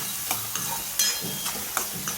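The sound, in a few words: sautéing spices on the gas stove for samosa filling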